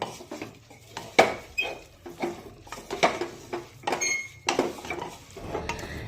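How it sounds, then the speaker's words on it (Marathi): Ingredients for soft, sweet coconut rice with jaggery are stirred in a metal pot, a spoon scraping and clinking against the sides in irregular close strokes. "आता हे सर्व साहित्य व्यवस्थित मिक्स करून घेऊया"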